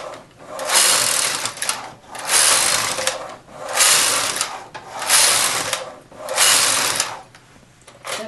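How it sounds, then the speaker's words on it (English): A knitting machine carriage is pushed back and forth knitting rows of waste yarn, giving five loud rhythmic swishing, clattering passes, each about a second and a half long, with brief quiet gaps at every turn. "I'm going to knit several rows of waste yarn"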